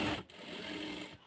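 A sewing machine stitches a blouse in one short, close, steady mechanical whir, broken by a brief pause near the start.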